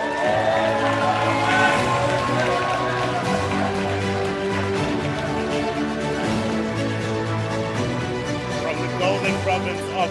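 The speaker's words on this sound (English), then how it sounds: "Keep your round of applause going for Lace Sanele Matebula." Applause from a graduation audience for a graduate, a steady wash of clapping from a crowd that carries on throughout with a few scattered cheers.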